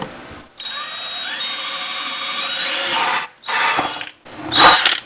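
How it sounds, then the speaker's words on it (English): A power drill with a 3/8 inch bit whines steadily for about three seconds, then runs in two shorter bursts, the last one louder and rougher as it bites into a plastic lid. "we're going to drill right down the lid"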